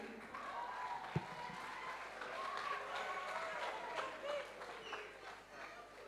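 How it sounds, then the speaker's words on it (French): An audience claps for a first-year mathematics sciences class at a school debate in Morocco, producing a steady, dense wash of applause that holds for several seconds with crowd murmur underneath. "Je vous demande, chère audience, d'applaudir fort la classe de la première année sciences mathématiques option française qui défendra le pour"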